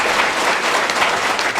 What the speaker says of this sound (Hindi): आप लोग एक बार जोरदार तालियां इन सभी अधिकारियों के लिए बजाएं